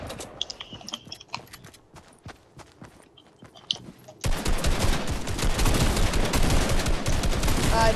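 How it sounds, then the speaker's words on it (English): Rapid bursts of gunfire in Fortnite, sparse shots at first, then dense continuous firing that grows loud and close, with faint talking early on. "The guy's shooting him."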